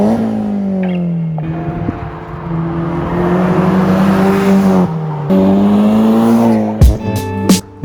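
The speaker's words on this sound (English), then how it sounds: "This is my CA18 powered S13 200SX." A 1992 Nissan S13 200SX with a CA18 engine drives by, its engine droning steadily and rising in pitch through the gears, loud and close, with a sharp transient near the end.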